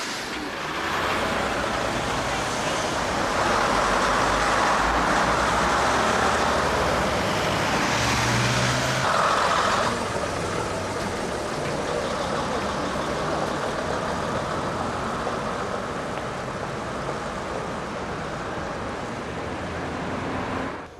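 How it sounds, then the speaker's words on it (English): A preserved AEC-engined Routemaster London bus, RML 2760, rumbles steadily on a London street in 2005, its diesel engine a continuous low drone mixed with surrounding traffic noise for the whole stretch. "This bus retains an AEC engine."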